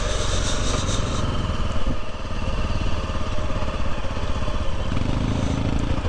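Motorcycles on a Japanese off-road mountain trail, their engines droning and revving steadily at close range, with a constant mechanical rumble and clatter throughout and no talking.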